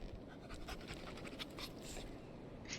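The Handler's dog in the video game Remnant pants quickly and rhythmically, short breathy huffs repeating close by at a quiet level with no talk over them.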